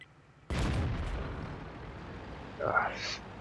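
A tank gun fires once in the World of Tanks video game: a loud, sudden blast that rolls into a long rumbling decay, with a voice speaking briefly near the end.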